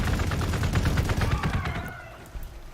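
Units opening fire in the strategy game Warhammer 40k Gladius: a rapid crackling burst of many shots that thins out and fades after about two seconds, with no voices.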